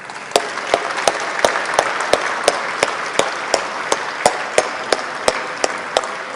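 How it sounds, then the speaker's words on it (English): Dense applause from a conference audience for entrepreneurs, steady and fairly loud, with a regular rhythm of sharp, distinct claps standing out above the crowd wash. "Can we give a round of applause to those entrepreneurs?"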